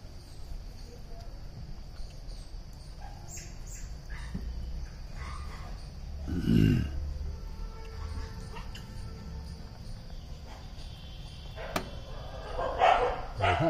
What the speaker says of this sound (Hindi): दो दो तीन तीन चार चार कुत्ते हैं यहाँ, ये देखो।